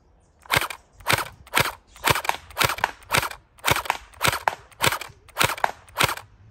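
Gel blaster shooting gel balls in rapid succession: about a dozen sharp, loud cracks at a fairly even, quick rhythm, close to the listener, with no talk over them.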